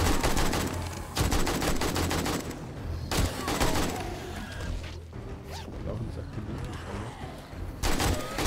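Bursts of AK rifle fire from the zombie survival game 7 Days to Die during a horde night, rapid automatic volleys separated by brief pauses, with mechanical weapon handling sounds in between.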